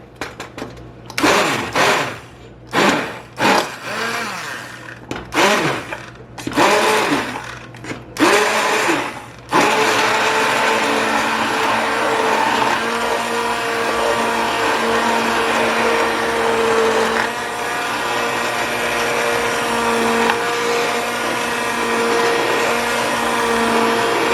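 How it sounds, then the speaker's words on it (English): A stick blender blending mango jam whirs in short pulsing bursts, then runs continuously at a loud steady whine for a long stretch, close up. "I'm going to get my stick blender in here."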